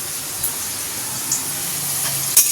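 Crabs frying in hot oil in a home kitchen give off a soft, steady sizzle and hiss throughout, with a brief sharper crackle near the end.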